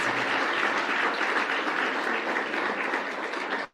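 Audience applause at an awards ceremony, a full, dense round of clapping from a crowd honoring Brian Young, steady and loud before cutting off sharply at the end.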